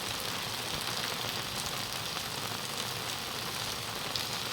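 Steady rain pours down over a village, a constant dense hiss and patter filling the scene evenly from start to finish with no voices.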